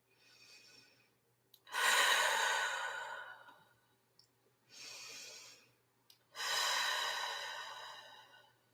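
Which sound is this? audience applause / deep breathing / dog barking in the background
deep breathing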